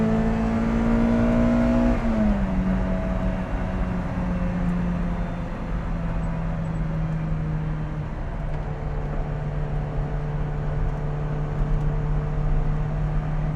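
A Lotus Elise engine revs loud and close on a mountain road, its droning pitch climbing, dropping at a gear change, then holding steady with a constant whirring hum and no talk over it.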